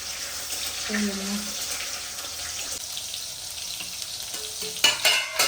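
Tomatoes frying in hot oil in a pan while cooking chicken handi, with a steady soft sizzle, some stirring and clattering, and a faucet running water near the end.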